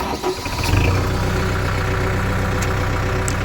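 A tractor engine runs steadily close by, pulling a pump motor out of a well, with a low continuous rumble and no voices.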